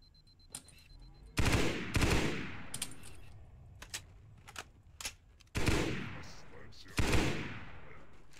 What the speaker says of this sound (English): With this particular warthog, the gun has like a 1 second delay.